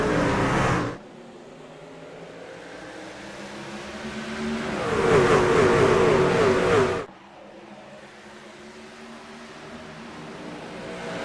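Race cars accelerate at the green flag in the iRacing video game, the pack's engine roar surging loud for a few seconds before dropping back to a lower, steady hum.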